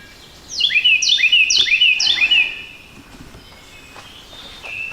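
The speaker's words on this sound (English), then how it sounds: "Someone is singing their heart out. I think that might be a cardinal." A bright, whistled northern cardinal song: four loud, clear phrases of rapid downward-slurred notes in quick succession, close by, then quiet with faint distant chirps.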